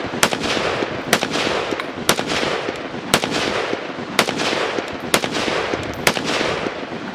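Ruger SFAR .308 AR-style rifle fitted with a boomer muzzle brake firing at a range: about eight sharp, loud shots spaced roughly a second apart, each a hard crack over a steady background of wind noise.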